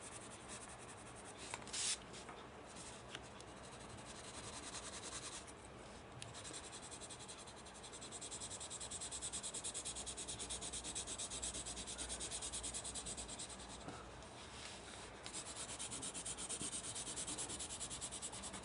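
Derwent Academy coloured pencil shading on paper, a continuous soft scratchy rubbing of the lead in quick back-and-forth strokes, close and quiet, with brief pauses and a slight swell midway.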